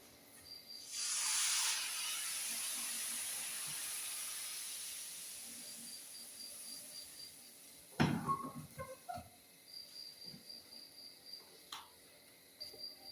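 Appam batter poured into a hot appam pan hisses with a loud sizzle that rises quickly and then fades to a steady soft hiss, followed by a few light clinks and taps.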